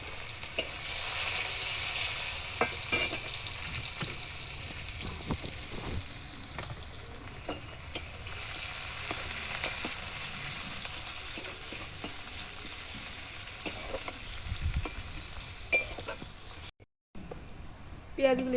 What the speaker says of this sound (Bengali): মাছ ভাজা তেলে আমি এবার পেঁয়াজ কুচিকে ভালো করে ভেজে নেব